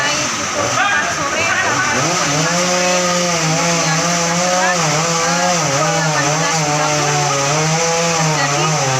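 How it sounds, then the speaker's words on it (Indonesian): A chainsaw cuts through the wood of a fallen tree that landed on a car in a housing estate, running loud and steady with the engine pitch wavering under load throughout. "langsung mengevakuasi dengan memotong kayu menggunakan gergaji mesin"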